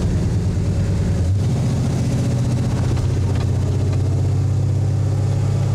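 A 1967 Pontiac GTO engine drones steadily under load on a road test, a loud, close low rumble that rises in pitch as it works through the gears.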